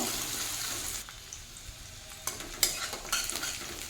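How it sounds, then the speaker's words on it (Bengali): Onion and green chili sizzle steadily in oil in a pan with a soft hiss, broken by a few stirring scrapes and clicks toward the end; no voices. "পেঁয়াজ কাঁচা লঙ্কা ভালোভাবে ভেজে নেব"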